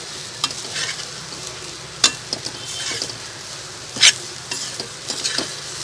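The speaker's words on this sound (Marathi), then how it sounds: "आता हे सर्व छान मिक्स करून घेऊ।" Bhakri chivda, crumbled bhakri with salt and coriander, being stirred in a hot pan: a steady soft sizzle with scraping strokes and two sharper clinks of the spoon against the pan.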